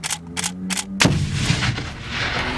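Grenade explosion during US Marines live training: a few brief distant shouts or thumps, then one sudden loud blast that decays into a long rumbling echo outdoors.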